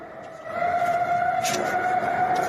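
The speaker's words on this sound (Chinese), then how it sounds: "确实是防空警报器。" A steady wailing air raid siren tone holds throughout, loud and sustained from a distance in Taipei, with a slight swell partway through and no voices.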